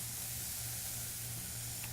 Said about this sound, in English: Now that you can hear the pans building up some heat